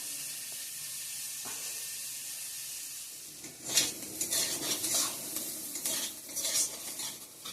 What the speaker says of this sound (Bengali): এদিকে আমার আলু ভাজাটাও হয়ে গেছে,